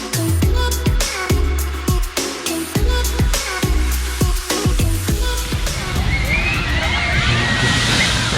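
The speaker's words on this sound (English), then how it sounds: "it was time to get wet in the splash. An extremely short yet fun boat ride" A splash boat ride at Salitre Magico amusement park, Bogota: a run of rhythmic mechanical clanks and knocks gives way to a loud rushing wash of splashing water.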